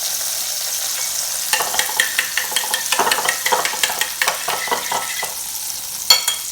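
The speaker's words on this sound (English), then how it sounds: "So our pan is nice and hot. We'll go in with about 2 tablespoons of butter." Butter sizzles and crackles in a hot pan, a steady frying hiss broken by sharp pops and spits that come in quick bursts, close and fairly loud, with no talking.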